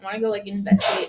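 A single sharp sneeze bursts out near the end, right after a person finishes speaking.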